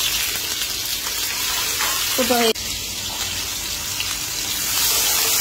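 Snakehead fish frying in oil in a pan, a steady close hiss of sizzling that runs throughout, with a brief clink of utensils partway through.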